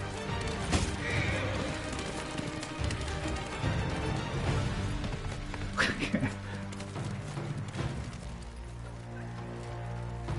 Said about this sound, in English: I'm coming for you on my horse.